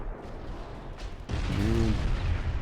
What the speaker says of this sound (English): You can see all the little secondary guns being fired.